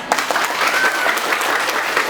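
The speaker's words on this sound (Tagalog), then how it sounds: "Ang hiling ko'y salubungin ng palakpak ang dalawa." An audience applauds to welcome two debaters at a Balagtasan, a Filipino poetic debate contest. The clapping is dense and steady, a continuous crowd wash lasting about two seconds with no one speaking over it.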